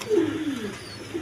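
Pigeons on a farm give a short, low cooing call, two soft throaty phrases close by with nothing else heard.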